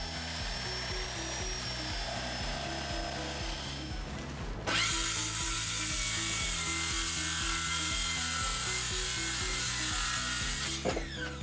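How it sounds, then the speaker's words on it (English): Long reciprocating saw blades cut wooden scarf joints in a restored boat's frames behind the planking, a steady rasping stroke that grows louder and harsher partway through and continues alone. "By using pattern guides, some special tools, and long sawzall blades, Garrett was able to do the scarfs"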